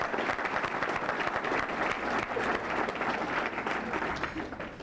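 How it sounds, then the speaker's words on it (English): Audience at an academic awards banquet breaks into sustained applause, a dense, steady wash of many hands clapping that fills the room continuously and tapers slightly at the end. "please join me in a round of applause for all those who have stood by you and supported you"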